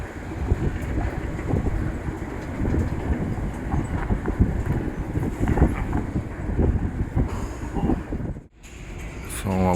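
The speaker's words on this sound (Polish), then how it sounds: "Wchodzimy do metra." Rumbling train and station noise in a Los Angeles metro station, a loud steady roar with clatter throughout and a brief drop near the end.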